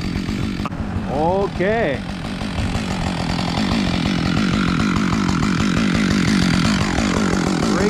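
Husqvarna-style 540XP chainsaw cutting into a big pine tree, loud continuous revving engine close by, with a brief spoken word near the start over the saw.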